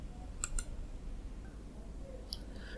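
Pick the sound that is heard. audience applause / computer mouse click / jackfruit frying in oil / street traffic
computer mouse click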